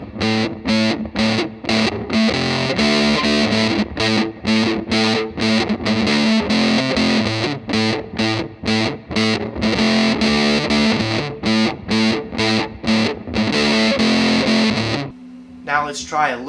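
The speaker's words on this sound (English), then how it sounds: "I'm gonna crank the fuzz up a little bit. Right away when we max it, can you hear a little more noise?" Electric guitar played through an EHX Triangle Big Muff reissue fuzz pedal with the fuzz maxed, thick saturated chords strummed in a steady rhythmic pattern, loud and close, ending with a sustained note and faint noise.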